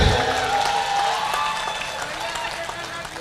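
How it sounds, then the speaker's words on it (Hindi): Audience applause at an All India Mushaira poetry gathering at Madhubani Medical College, a steady dense wash of clapping from a crowd that fills the whole stretch at even loudness, with voices mixed in. "ताली बजानी है तो फिर जरा जोर से बजाइए"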